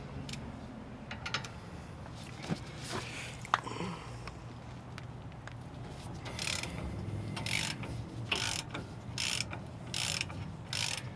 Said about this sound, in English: So now we're going to use a 21mm socket and a 1/2-inch breaker bar to remove the two bolts that are holding on the caliper mounting bracket.